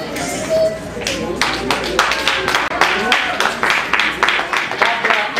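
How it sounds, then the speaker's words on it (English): Guests at a wedding in Brussels clap in scattered, uneven bursts, close and fairly loud, with overlapping hand claps and talking voices throughout. "Stop clapping."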